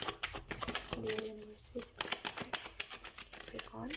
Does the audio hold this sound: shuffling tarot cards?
yes